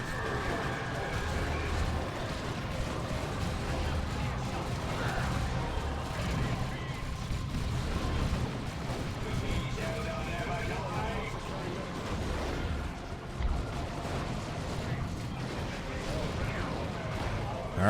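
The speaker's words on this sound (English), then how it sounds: "Dark Reapers opening fire on the Stern Guard veterans." Dark Reapers open fire on Sternguard veterans in a Dawn of War II: Retribution battle, a dense, continuous barrage of booming shots and rumbling explosions under steady talking.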